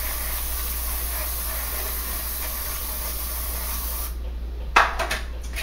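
A steady, continuous aerosol hiss of cooking spray greasing a cake pan, fairly loud and close, cutting off near the end and followed by a couple of light clatters.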